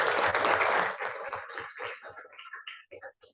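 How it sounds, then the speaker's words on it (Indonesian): Applause from a classroom group fades out after about a second, leaving scattered, tapering claps until it stops. "Tepuk tangan untuk mereka berdua."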